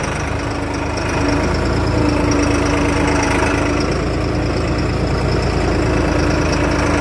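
A loud, steady New Holland tractor engine idles nearby with a low, throbbing rumble that holds constant throughout, with no voices.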